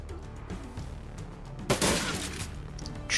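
Gunfire in the Shadowrun: Dragonfall video game, a faint background rumble that breaks into a sudden loud burst of shots midway, then settles before another short flare at the end.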